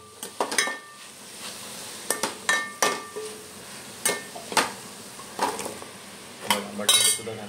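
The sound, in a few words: potatoes being added to a pan of onion and tomato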